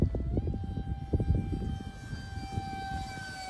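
A small E-Flite UMX F-86 electric RC jet flying at roughly a third throttle, giving a whining tone that shifts in pitch as it passes, over louder gusty wind buffeting nearby.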